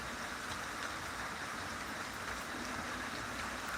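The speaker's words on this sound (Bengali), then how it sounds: "দেখতে পাচ্ছ আমাদের বাড়ির সামনের দিক থেকে জানলায় কাছ থেকে দেখাচ্ছি তোমাদেরকে বৃষ্টিটা" Rain falls in front of a house, picked up near a window as a steady, soft, even hiss with no break and no voices.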